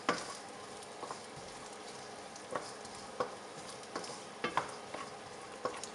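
Rice and chorizo fry in a pan while a spoon stirs them now and then, a soft steady sizzle broken by light scraping taps, close and quiet.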